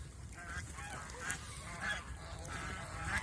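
Geese honk repeatedly while mating, several nasal calls in an irregular rhythm at moderate distance over a low background rumble, with no talk.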